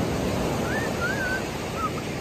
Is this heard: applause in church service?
no